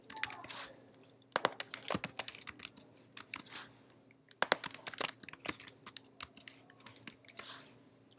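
Bursts of keyboard typing, rapid key clicks in uneven runs with a pause near the middle, close and clear with no voices.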